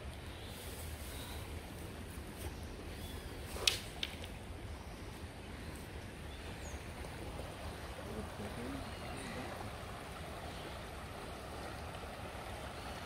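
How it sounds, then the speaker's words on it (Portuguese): A river, swollen after filling up, flows in a steady broadband rush with a continuous, even wash of water and no voices. "E o rio já deu uma enchidinha."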